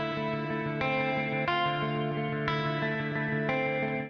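MIDI guitar chords played through a chorus effect and a wide stereo reverb, sustained and steady, with a new strum roughly every second over a continuous bed of ringing tones, alone with no talk.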